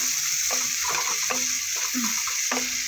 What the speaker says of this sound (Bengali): বেগুন ভাজার তেলের মধ্যে পেঁয়াজ আর কাঁচা লঙ্কাটা দিয়ে দিলাম